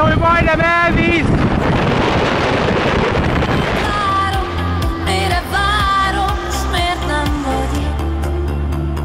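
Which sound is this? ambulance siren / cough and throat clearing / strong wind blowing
strong wind blowing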